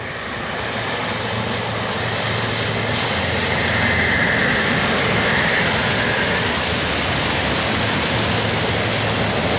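A Jeep Grand Cherokee ploughs through deep water off-road, its bow wave a loud, steady broadband rush and splash, with engine rumble buried beneath the continuous surging water noise.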